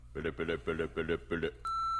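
A single steady electronic beep on a phone line sounds after a voice speaks, marking the start of a voicemail recording.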